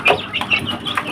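Young chicks in a brooder box warmed by a 20-watt heat lamp, giving a run of close, high peeping calls, several overlapping in quick succession.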